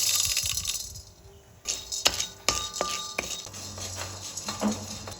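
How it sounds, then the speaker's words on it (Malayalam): Kopi luwak coffee beans roasting in a plain pan rattle and clink as they are stirred, with irregular metallic taps and scrapes spread across several seconds and no talking. "ഇത് ഞാൻ റോസ്റ്റ് ചെയ്യാൻ പോണ് വെറുതെ ചട്ടിയിൽ"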